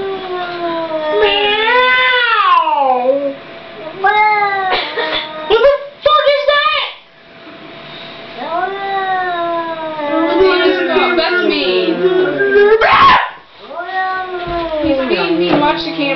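An angry cat yowls and meows loudly and repeatedly, with long drawn-out wails broken by short pauses, and people talk over it at times.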